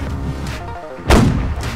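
Heavy booming blasts of cannon fire in a video game naval battle, one loud deep boom cutting in sharply after a rumbling, echoing background of battle noise.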